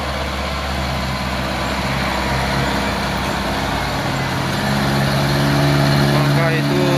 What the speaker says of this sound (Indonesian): Maka itu truk losbak trailer.